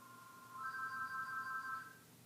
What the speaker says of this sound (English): So the phone's ringing, and I'm just going to let it ring.